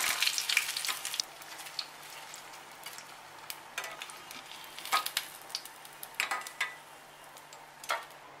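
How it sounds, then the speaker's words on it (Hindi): Paneer sticks frying in oil produce a soft, steady sizzle, with bursts of brighter crackling and a few light clinks of utensils scattered through it. "इसी तरीके से हम सभी स्टिक को तल लेंगे"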